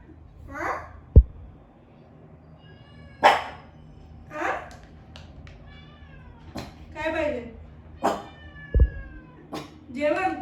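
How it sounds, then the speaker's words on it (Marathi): A cat meows repeatedly, several drawn-out cries close by, with occasional thumps in between. "ह्याच्या ताटात जेवण नव्हतं म्हणून एवढं म्याव म्याव म्याव करत सुटलेलं आहे"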